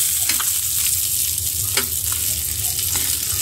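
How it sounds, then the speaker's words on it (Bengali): Small tangra fish fry crisply in oil thick with spices on low heat, giving a loud, steady sizzle with a few soft stirring scrapes, and no one talks. "এই মাছগুলিও মচমচে করে ভেজে নিচ্ছি।"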